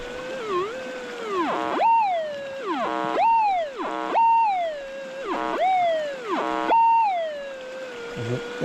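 A metal detector gives repeated loud warbling tones while prospecting for gold on bedrock by a creek, each signal sweeping up and down in pitch, close and clear with no talking.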